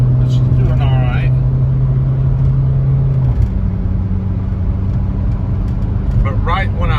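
A 2005 VW Jetta TDI wagon diesel accelerating uphill at full throttle: a steady, loud low engine drone inside the car, with someone talking at the start and end.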